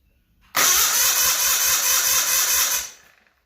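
An Onan CCKB engine cranks and fires, roaring loud and steady for about two seconds before cutting off abruptly, with nothing else around it.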